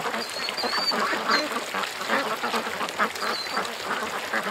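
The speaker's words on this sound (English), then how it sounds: "Just look at those ducks." A large, dense flock of ducks quacks continuously, a busy overlapping chatter of many birds close by and fairly loud throughout, with occasional higher calls rising above the din.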